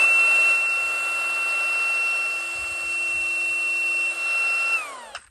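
A Milwaukee 2883 cordless angle grinder spins at a loud, steady high-pitched whine, then its electronic brake kicks in and the pitch drops sharply as it stops within about half a second.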